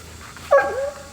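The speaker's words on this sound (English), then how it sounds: "They're probably about to start barking." A single nearby bark from a hunting hound, rising into a whiny yip against a quiet outdoor background.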